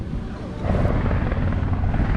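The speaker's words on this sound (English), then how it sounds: "that private helicopter right there coming on into the island" A private helicopter approaching a cruise-line island port, its rotor thump building into a steady, rumbling drone that grows louder about halfway through and holds close by against wind noise.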